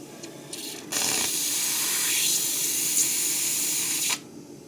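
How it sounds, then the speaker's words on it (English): A steam injector on a steam boiler that is working badly blows steam in a loud, steady, hissing rush lasting about three seconds, starting and stopping abruptly, with quieter hiss before and after. "Once it blows steam out, the only way you can stop this is by closing the steam valve."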